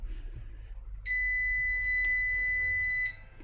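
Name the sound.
loud door buzzer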